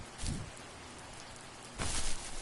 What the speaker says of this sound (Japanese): この雨音って好きよ、私は。